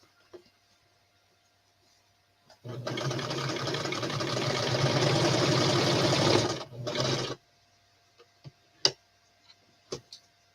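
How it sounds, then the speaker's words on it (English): A home sewing machine runs in one steady burst of about four seconds, close and fairly loud, then stops briefly and runs again for a short spurt, followed by a few sharp clicks and taps. "I need my sewing foot over here."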